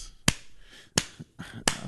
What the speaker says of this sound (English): Look, this is me. Slow clap.